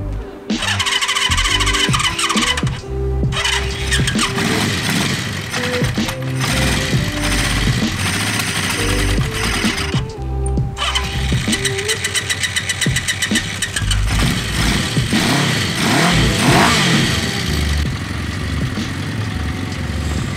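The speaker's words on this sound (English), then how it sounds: "there's a new battery in the motorcycle, so hopefully with a little love this starts up" A Honda CB650 motorcycle engine with a new battery cranks and catches, then runs loudly with a rough, rattling idle and occasional revs, close by.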